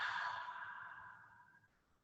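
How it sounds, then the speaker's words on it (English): A single deep exhale through the mouth during a guided morning breathing exercise, a soft breathy rush that starts fairly strong and fades away over about two seconds, quiet and close with no talking. "take a couple of deep breaths, breathing in through the nose and out through the mouth"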